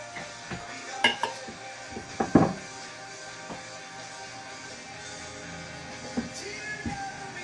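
A knife cutting salmon into portions on a board: scattered sharp taps and knocks of the blade, a cluster of louder chops early on, then softer intermittent strokes, close and without talking.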